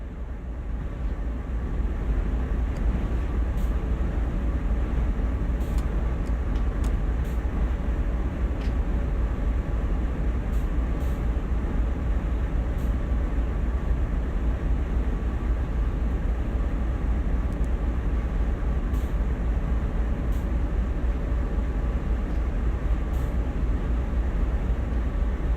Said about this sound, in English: Now bring the train to a stop.